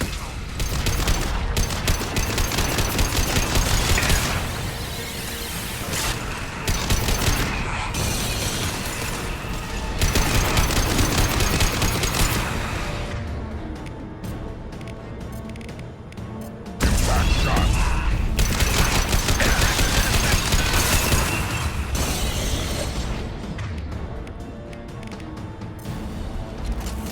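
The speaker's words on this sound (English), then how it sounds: "Firing a high impact shot." Heavy anti-ship battery fire in a space combat game, a loud sustained roar of rapid weapon discharges and impacts that comes in long surging bursts separated by brief quieter gaps.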